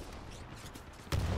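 A G2 rifle fires in the video game Titanfall 2: a sharp, punchy gunshot bursts out near the end after a quiet, low rumbling background.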